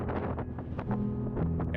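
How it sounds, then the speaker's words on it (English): Strong wind gusting near the US-Mexico border in a cold open area, with loud rushing buffeting that hits the microphone steadily throughout. "Yeah, it's super windy."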